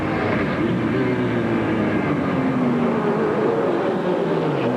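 Indy Lights race cars at a Detroit street race roar past in a dense, continuous engine drone, with pitch sliding as the cars accelerate away from the start.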